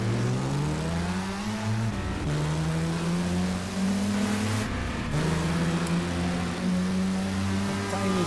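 Racing car engine in GT Legends droning loud and steady with a rising pitch, broken by two brief dips around gear changes before it climbs again.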